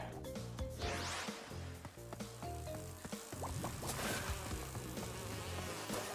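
Buzzing bees from a game, heard as a steady, dense insect drone that fills the whole stretch, layered with busy music and clicking effects.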